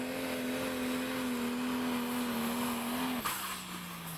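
Pulling tractor Rough Justice at The Great Eccleston Show 2018 drones steadily through a full pull, its engine a sustained steady note that drops in pitch as it finishes.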